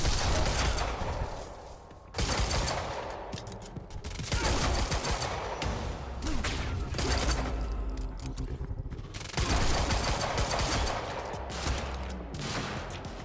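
Heavy gunfire in the shooter Quantum Break, with loud bursts of rapid automatic fire and shots in three long volleys. Brief gaps separate the volleys, with mechanical clatter and a low rumble under them and no voices.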